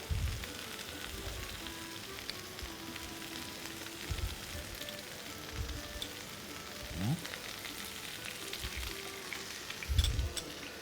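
Spinach fries in a pan as Ashtarak sauce goes in, a continuous crackling sizzle broken by a few low thuds and stirring knocks, with no speech heard.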